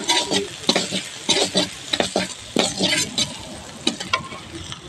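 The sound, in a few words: frying chopped garlic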